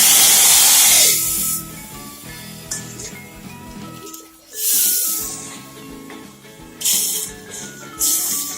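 Spices for tempering hit hot oil with loud bursts of sizzling hiss, a strong spray at the start followed by quieter crackling and several later sharp sizzles, with no talk.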